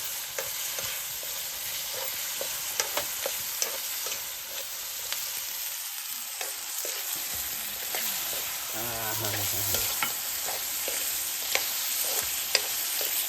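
Crabs roast in a pan with a steady sizzle while a utensil stirs and scrapes them in frequent sharp clicks, close and without talk.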